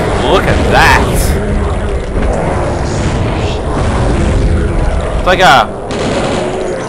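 The life leech, a magic fire weapon in the DOS shooter Blood, fires in rapid crackling bursts that pop loudly over rumbling gunfire, while someone talks excitedly over it.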